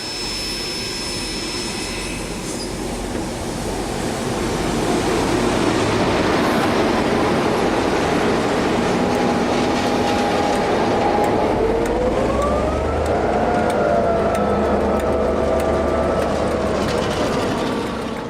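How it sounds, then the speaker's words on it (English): A steam train runs on a New Zealand railway: a loud, steady rumble and clatter of wheels across the whole stretch, with a whistle-like tone rising and holding in the second half. "Travelling by steam train is not now done by necessity, but by choice."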